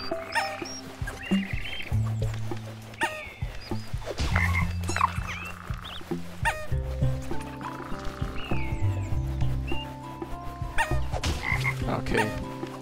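A frog croaks repeatedly in the video game Toki Tori 2+, its close, loud croaks mixed with layered game sounds and tones.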